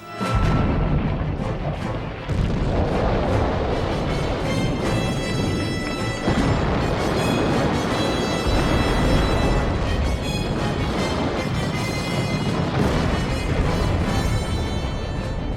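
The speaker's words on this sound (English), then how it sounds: "He said, all right, open fire." Heavy battleship artillery fire in a naval battle, a dense continuous roar of booms and blasts that stays loud throughout with no pauses.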